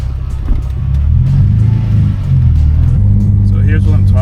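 A Nissan G35 with a newly installed oil cooler driving along a residential street, a steady low engine rumble from inside the cabin with a voice talking over it.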